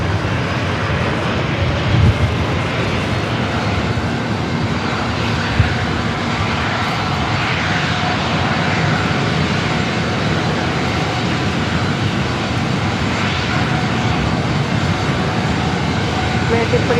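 Frontier Airbus A321 in Raccoon livery on approach to San Diego airport, a steady broadband engine roar held at constant level throughout, with air traffic radio chatter underneath.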